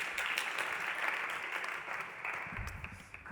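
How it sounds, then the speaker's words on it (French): Audience in a hall at an Occitanie startup-ecosystem presentation applauds steadily for a few seconds, a dense, even wash of many hands clapping with no break. "On peut applaudir."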